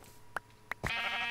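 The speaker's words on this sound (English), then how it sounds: "Oh, sheep." Sheep in Minecraft give two short, close bleats, then a longer, louder one that holds steady to the end, with no voices over them.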